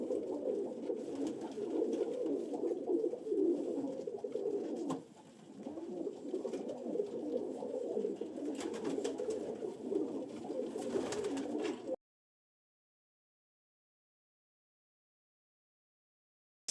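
Pigeons coo in a loft, a steady, close chorus of overlapping soft warbling calls that runs without a break for about twelve seconds, then stops abruptly into silence.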